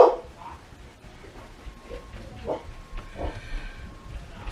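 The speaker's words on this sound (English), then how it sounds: "Sorry, my dog is distracting me." A pet dog in a home, producing a few muffled, scattered barks and whimpering yips, moderately distant and low in level against a dull room background.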